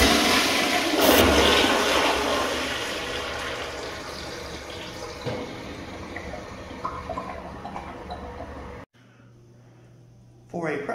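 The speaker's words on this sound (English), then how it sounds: "For a pressure-assisted toilet, it doesn't have a bad flush by any means." A Gerber Ultraflush pressure-assisted toilet, first generation, flushes with a loud forceful whoosh of rushing water that slowly tapers off. The rush cuts off abruptly near the end, leaving a low refill hum.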